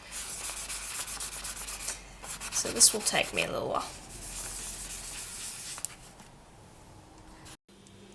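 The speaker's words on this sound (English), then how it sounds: "I'm going to go with the classic sanding route." Polymer clay pieces made to look like snowflake obsidian are sanded by hand with a steady, raspy rubbing that swells in the middle and fades toward the end, while a person speaks briefly.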